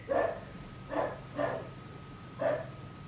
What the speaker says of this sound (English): He is out there barking up a storm.